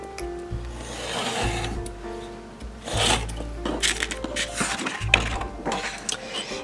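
Paper being cut by hand for a handmade mini album, heard as several close rasping strokes with brief pauses between them and no talking.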